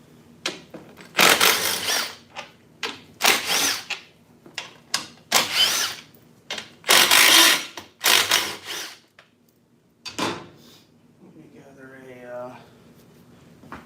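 Short bursts of a power tool or ratchet work on the back bolts of truck steps, loud whirring spurts separated by pauses, with a voice speaking between them.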